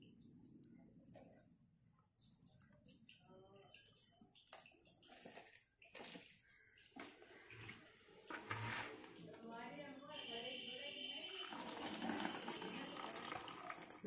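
Fish amino acid liquid made from sea fish, poured through a strainer, giving a trickling, splashing pour that grows fuller toward the end, with a voice talking over parts of it.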